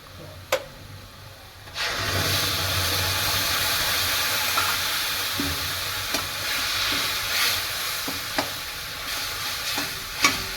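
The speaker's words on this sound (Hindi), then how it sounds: "अब मैं इसमें डालूंगी टमाटर की प्योरी।" Tomato puree hits a hot pan of cooked spices for a spicy jackfruit-seed curry, bursting into a loud continuous sizzle and hiss with sharp clinks of a stirring spoon against the pan throughout.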